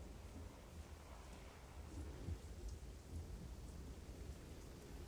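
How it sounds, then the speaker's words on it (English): Rain falls steadily with a low rolling rumble of distant thunder beneath it, a soft constant wash of sound heard from indoors with no voices. "I might hear thunder,"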